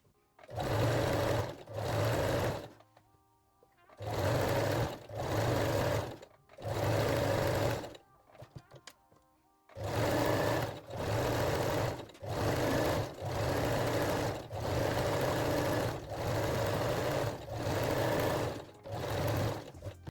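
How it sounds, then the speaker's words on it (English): A domestic sewing machine zigzag-stitching fold-over elastic onto a panty waistline, running in short, even bursts of rapid mechanical whirring separated by brief pauses, close and clear with no voices. "in the middle of the fold over elastic and sew along the waistline."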